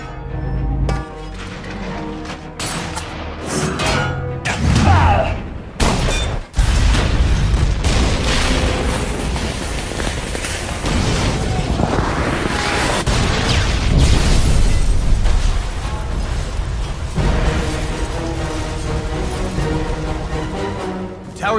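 A tower collapsing amid explosions in the Captain America: Super Soldier video game, with heavy booms, rumbling debris and sharp bursts running loud and continuous over a dense game soundtrack.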